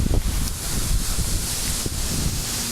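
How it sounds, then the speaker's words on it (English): Gusty hurricane wind from Hurricane Irene buffets the microphone outdoors, a steady low roaring rumble with heavier thumps at the start, alone without talk. "Wind gusts up to 40 miles an hour now."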